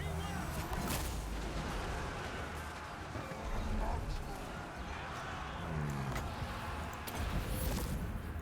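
Heavy bombardment in a Total War Warhammer style battle game, with booming artillery impacts and rumbling explosions layered over dense battle noise, loud and continuous throughout.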